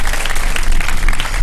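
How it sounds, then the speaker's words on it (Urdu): Audience applause at a Ramadan iftar TV show, a dense, loud burst of clapping from a studio crowd, continuous and brief. "بہت ساری تالیاں رمیش"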